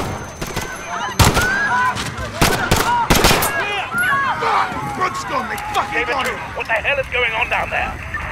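Sharp gunshots crack out in a fast cluster, then scatter amid shouting and running in Call of Duty Modern Warfare's London street attack, with a panicked crowd of voices filling the gaps.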